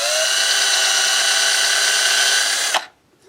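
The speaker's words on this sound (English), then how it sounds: "And I end up pushing my drill bit in anyway" Power drill bit boring into a rusted gas tank on an Earthquake chipper shredder, a loud, steady high whine that holds for nearly three seconds and then cuts off abruptly.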